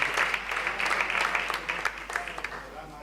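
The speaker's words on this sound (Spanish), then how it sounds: "Sí, un aplauso" An audience applauds at a round-table discussion on surrealism, steady clapping from a crowd in a hall, with voices talking over it.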